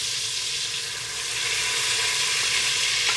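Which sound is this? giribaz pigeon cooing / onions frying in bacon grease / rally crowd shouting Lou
onions frying in bacon grease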